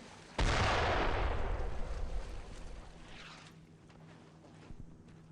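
Machine gun fire in the World War II shooter game Brothers in Arms: a loud, sudden blast of gunfire that rolls into a long rumbling decay, with no voices over it.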